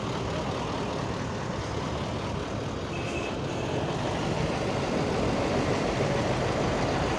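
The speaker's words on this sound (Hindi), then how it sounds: "उस तरफ दूसरी गाड़ी भी आ गई है कंक्रीट की।" Concrete mixer truck at work on an underpass construction site in Islamabad, a steady broadband engine drone and rumble throughout with no clear breaks, moderately distant.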